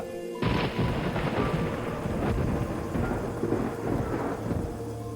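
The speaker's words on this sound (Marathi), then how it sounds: "एव्हाना अंधारून आलेलं अधूनमधून विजा कडाडत होत्या" A sudden loud crack of thunder breaks into a sustained rumble, with heavy rain pouring steadily underneath.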